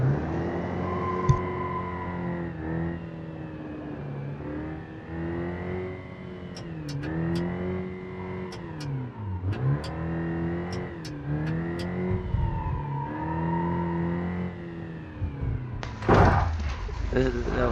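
A car's engine in BeamNG.Drive revs repeatedly while driving, climbing and dropping in pitch through several gear-like swells, with a few sharp clicks and a thump near the end, and someone talking over it now and then.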